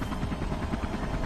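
Helicopter in the video game Beyond: Two Souls thrums close and loud, its rotor chop pulsing in a fast steady rhythm with a low engine rumble beneath.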